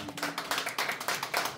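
Audience at a primary school author talk clapping for a storytelling drama teacher, a dense, steady patter of many hands held close and fairly loud with no voices over it.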